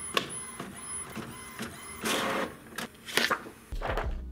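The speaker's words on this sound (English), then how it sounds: "I have to put cardstock in the printer." Printer printing on cardstock, a series of mechanical whirs, clicks and paper-feed rattles at close range, ending in a louder rolling feed, with no voices.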